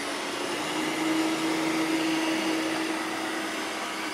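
A Eureka E10s robot vacuum mop runs over carpet with a steady, even motor whine and airflow roar, holding a constant tone throughout, close and alone with no talking.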